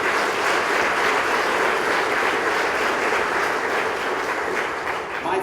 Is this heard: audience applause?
yes